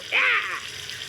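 Cartoon water running from a tap, a short bright gush that swells quickly and then settles into a softer steady flow, with no talk over it.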